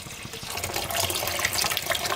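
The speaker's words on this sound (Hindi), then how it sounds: "ये पानी आपने इसमें डालना है" Ice water pours steadily into a pot over ice cubes while making Kashmiri pink chai, a continuous splashing stream with no talk.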